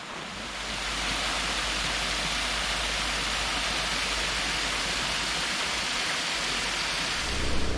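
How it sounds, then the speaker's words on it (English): A small waterfall by a creek rushes in a steady, close hiss of falling water that holds evenly throughout, with no voices. "A little waterfall."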